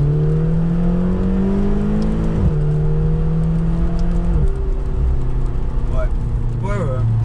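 A McLaren GT's engine drones steadily while driving, its pitch climbing and dropping sharply at each gear change with faint squeaks near the end; the car is close and loud throughout.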